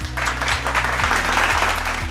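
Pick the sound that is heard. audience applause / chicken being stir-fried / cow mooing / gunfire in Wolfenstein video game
audience applause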